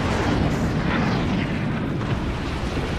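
Howitzer artillery fire in a video game battle with German forces: a dense, loud, continuous rumble of booms and blasts with no break, filling the whole stretch.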